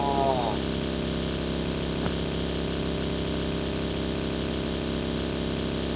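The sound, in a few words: vehicle engine in a video game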